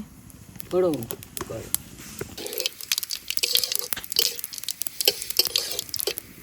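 Cumin seeds, bay leaf and dried chilli sizzle in hot oil after pomfret has been fried, a steady close crackle with stirring clinks, and someone speaks over it near the start.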